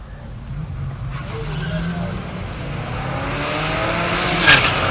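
375-horsepower stock-motor muscle car at a pure stock drag race, engine rising in pitch as it accelerates away, with tire noise, under a track announcer's voice.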